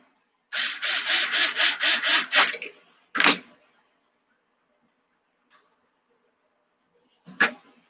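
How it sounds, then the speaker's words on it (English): Small screws driven into a Flysky receiver installation, heard as a close rapid ratcheting burst of clicks, followed by a shorter burst and then one more brief grind after a pause. "just let me put these 5 screws in."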